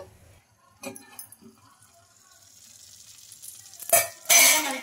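Coconut batter hitting hot oil in a covered pan gives a sudden loud sizzle burst near the end, after quiet clinks and a faint cough.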